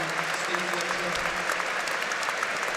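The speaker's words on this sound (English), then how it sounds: "The home supporters, to their credit, applauding Stephen Fletcher." Home supporters in a football stadium at an FA Cup match between Brighton & Hove Albion and Sheffield Wednesday applaud a departing player, a broad wash of clapping from the crowd heard under a commentator's voice.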